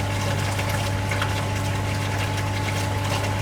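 A water pump hums steadily as it drives flow through a Venturi meter in a laboratory rig, a constant mechanical drone with a rushing water wash, continuous and fairly loud with no talk.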